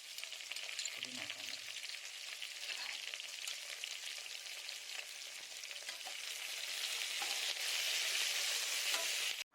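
Green chillies frying in hot oil in a cooker, giving a steady, fairly faint sizzle that swells slightly toward the end, with a brief low clunk early on.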